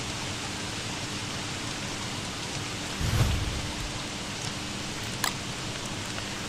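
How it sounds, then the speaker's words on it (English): Steady hiss of rain in the Don't Starve video game, a constant wash of patter with a brief low rumble partway through and a faint drip-like tick near the end. "Fire's gonna go down pretty quickly in the rain."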